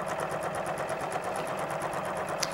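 A sewing machine stitches through a quilt at a smooth, even speed. It makes a close, steady, rapid mechanical whirr with regular needle ticks, unbroken by talk.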